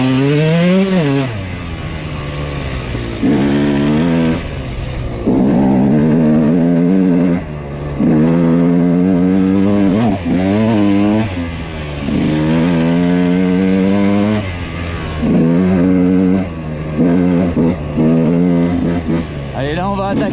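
A motorcycle engine revs hard and repeatedly while its rear wheel spins on wooden planks, giving loud rising and falling bursts with short pauses between them and someone talking over it.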